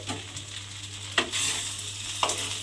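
A spoon stirs hilsa fish head curry with garam masala and slit green chillies in a pan, giving a few soft scraping strokes over a low sizzle, with no talking.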